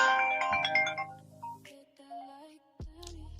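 A mobile phone ringtone sounds briefly, a bright melodic chime lasting about a second before cutting off, followed by quieter tones and a low electronic buzz.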